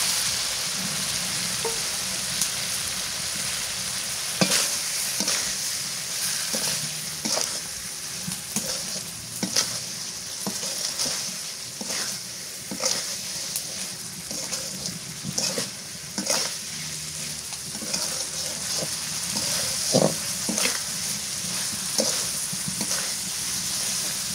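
Shrimp and ribbonfish fry in a pan with spiny gourd, giving a steady, loud sizzle and spatter throughout, broken by repeated scraping clicks as the pieces are stirred.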